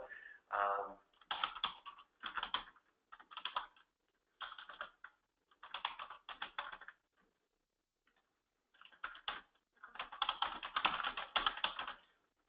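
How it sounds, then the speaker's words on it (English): A computer keyboard typed on in short bursts of quick, light clicking, close and fairly quiet, with pauses between flurries and a longer continuous run near the end. "I'll just type in a little message here"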